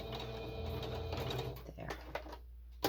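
A sewing machine back stitches a short run to secure the seam on a journal envelope, a steady mechanical whir for about a second and a half before it stops, followed by a few soft handling clicks.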